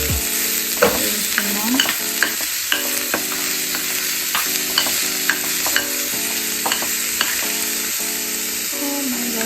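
Onions frying in a pan for Telangana-style fish curry, a loud continuous sizzle broken by frequent rhythmic scrapes and clinks of a spoon stirring against the metal.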